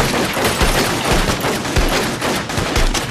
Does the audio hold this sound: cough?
no